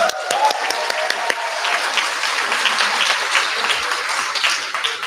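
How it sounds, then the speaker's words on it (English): Crowd at a political rally in Dearborn, Michigan breaks into sustained applause, a full continuous roar of clapping mixed with faint cheers, loud and close throughout. "Let's give him another round of applause."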